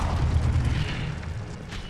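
An Incendio fire spell is cast in Hogwarts Legacy, giving a deep, rumbling boom-like burst that stays steady and loud for about two seconds.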